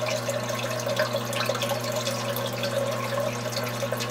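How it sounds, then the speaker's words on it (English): Water trickles and gurgles steadily as a loop siphon starts draining an apartment aquaponics tank filled with expanded clay media, over a constant low pump hum, with no talking. "As you can see, the siphon is just starting there."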